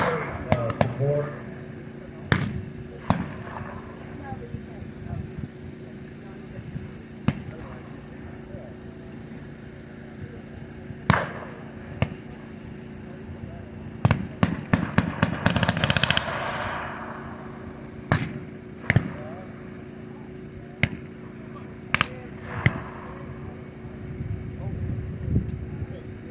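WWII battle reenactment firing maneuver: sharp blank gunshots crack out singly and in quick bursts at varying distances over a steady engine drone, with a rapid volley around the middle and people talking.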